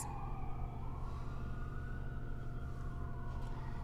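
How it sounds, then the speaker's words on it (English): A distant siren wails with a slowly rising and falling tone over a low steady hum, faint and continuous. "sirens."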